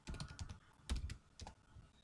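Computer keyboard keys tapped while entering a terminal command, a few quick soft clicks in short bursts, close and quiet in a silent room.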